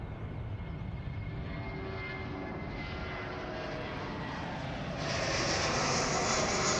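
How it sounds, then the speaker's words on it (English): Qantas Airbus A330 airliner passing at Sydney Airport, a steady distant engine roar that swells slightly toward the end, heard alone without talk. "Qantas A330 now coming across our screen."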